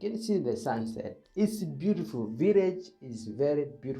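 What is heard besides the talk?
No everyday noises stand out.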